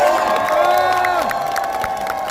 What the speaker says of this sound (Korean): 우리 수고해주신 김규현 변호사께 뜨거운 함성과 박수 부탁드리겠습니다.